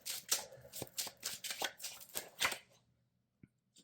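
Tarot cards are shuffled by hand in a run of crisp, rapid riffling bursts close to the mic, ending with a single faint tap after a brief pause.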